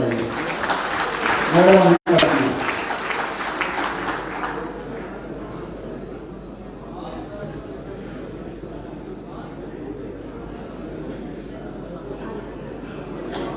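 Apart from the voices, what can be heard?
audience applause welcoming guests at an environment summit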